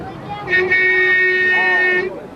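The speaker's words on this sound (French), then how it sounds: "Oh, c'est klaxon." A car horn on a Peugeot 302 saloon from a Peugeot club rally blares in one sustained honk lasting about a second and a half, with people talking in the background.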